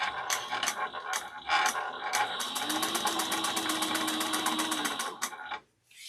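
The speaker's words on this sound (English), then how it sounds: "I'm going to top stitch just 1/8 of an inch down both sides." A sewing machine top stitches with Amann Tex 70 thread, close and clear: a few short starts, then a fast, even run of rhythmic mechanical clatter that stops abruptly.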